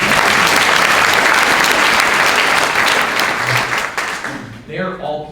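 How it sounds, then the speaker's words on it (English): Loud, dense audience applause at a political rally, sustained for several seconds before tapering off abruptly, with a voice starting up as it fades. "Round of applause for Kat,"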